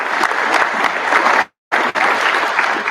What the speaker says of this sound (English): So if we could just give them a round of applause,